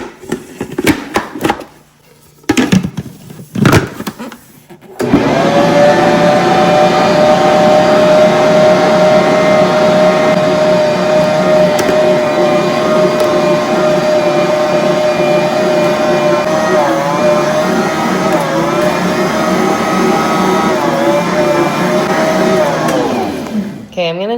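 Stand mixer kneading sourdough cinnamon roll dough, a loud, steady motor whir with a slightly wavering tone running continuously for about twenty seconds after a few short knocks and handling sounds at the start.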